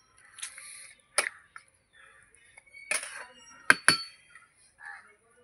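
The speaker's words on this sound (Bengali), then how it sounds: "এই যে একটু নেড়ে ছেড়ে দেবো গরম মশলাটা।" A spoon stirs ground garam masala into a pot of light meat curry, giving a few sharp metallic clinks and scrapes spread out between quiet pauses.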